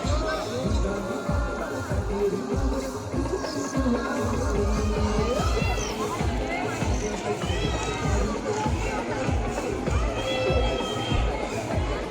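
Crowd at a hilltop goddess temple on a rainy Saturday, a continuous murmur of many voices with scattered shouts and footsteps, near and dense, while someone speaks over it.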